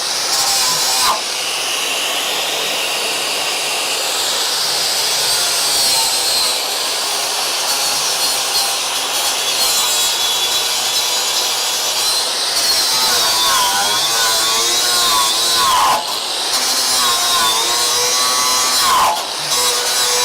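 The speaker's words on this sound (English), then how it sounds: "I'm gonna grind that and redo it." A grinder works down a missed weld seam on a steel car frame rail, a loud, close, continuous whine that dips briefly once or twice before carrying on.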